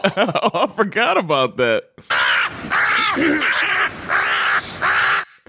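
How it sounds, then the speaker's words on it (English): A person speaks briefly, then loud, harsh crow-like caws repeat several times in a row, close and prominent. "I might need a new bird sound"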